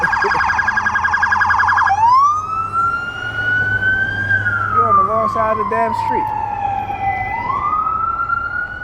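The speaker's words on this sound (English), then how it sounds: "when you hear the siren just to pull over to the side of the street" A loud wailing siren sweeps up and down close by, continuing throughout as someone talks over it.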